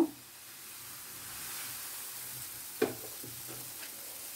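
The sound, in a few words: dosa batter poured onto a hot pan, sizzling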